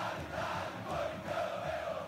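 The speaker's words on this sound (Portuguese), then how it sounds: "E a torcida vibrando aqui na Neoquímica Arena" Football crowd at Neoquímica Arena during a Corinthians match on a cold night, a steady distant roar of cheering fans with no clear individual voices.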